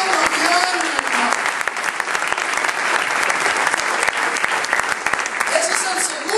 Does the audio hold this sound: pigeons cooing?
no